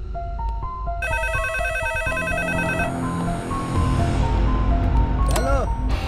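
A telephone rings with a bright electronic ringtone, its repeating tonal pattern sounding loud and close, while a voice speaks over and after it.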